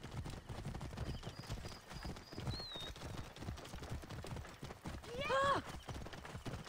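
Horses galloping in Assassin's Creed Origins, a steady run of hoofbeats under game music, with a horse whinny rising near the end.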